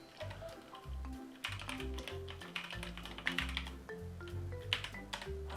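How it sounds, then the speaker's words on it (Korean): Rapid typing on a computer keyboard while entering basic C code, with dense, uneven keystroke clicks running continuously and closely miked over soft background music. "먼저 같이 타이핑 해보시죠."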